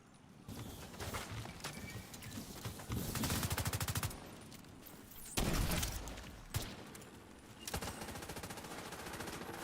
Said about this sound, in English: Slowly start shooting him.